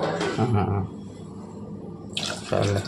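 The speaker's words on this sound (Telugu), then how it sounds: "పప్పులో కొంచెం 2 గ్లాసులు వాటర్ పోస్తున్నాం" Water splashing and pouring into a pot of lentils in short bursts, two glasses' worth, close by, with a quieter stretch in between.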